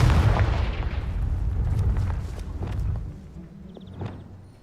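A Confringo blasting spell explodes in the Hogwarts Legacy video game, opening with a heavy booming burst that rumbles and decays over a few seconds, followed by scattered crackles and small pops as it fades.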